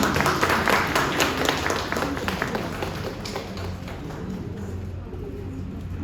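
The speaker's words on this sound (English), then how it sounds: "Please have a big round of applause for them." A prize distribution ceremony audience claps for students. The crowd's applause is loud at first, then thins and fades to a few scattered claps before dying away.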